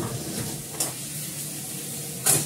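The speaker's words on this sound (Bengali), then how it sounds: "চাউমিনটা দিয়ে দিলাম" Chow mein noodles land in a hot pan and sizzle: a steady frying hiss with two sharper bursts of spitting, close and moderately loud, with no talking.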